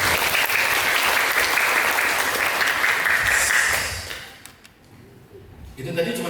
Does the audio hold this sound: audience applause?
yes